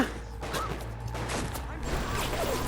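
Gunfire in BioShock Remastered, a short burst of shots amid a dense, noisy game soundscape, moderately loud, with someone talking over it.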